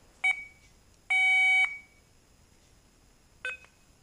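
Three short electronic beeps from a multimeter continuity test finding a ground connection, the middle one held longer, clear against a quiet background.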